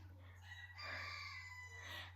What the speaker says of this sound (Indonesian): ayam bisa berhenti nggak ya Allah ya Rob?